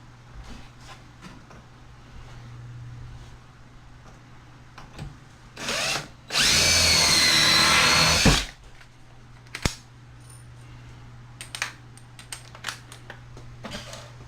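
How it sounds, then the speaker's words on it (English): A power drill bores a pilot hole while installing a bathroom vanity: one loud, steady whir of about two seconds, framed by a short trigger burst before it and faint clicks and taps around it. "Drill a pilot hole first."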